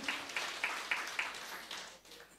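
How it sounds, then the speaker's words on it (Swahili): A church congregation at a Sunday service claps in a steady, even rhythm of about seven or eight beats that then blur into a softer wash, faint and somewhat distant, with no clear speech over it. "tuwapigie makofi"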